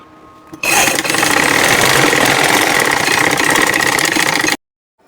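A sewing machine runs in one steady, loud burst of rapid mechanical whirring and clatter, stitching a baby bib made from a shopping bag. It starts abruptly, holds continuously for about four seconds, then stops sharply, with no talking over it.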